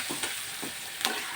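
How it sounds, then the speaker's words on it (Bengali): Slit green chillies are stirred into spices frying in a pan, giving a faint steady sizzle with a few soft scraping strokes over just over a second. "কাঁচা লঙ্কাটা দিয়ে আমরা নাড়াবো।"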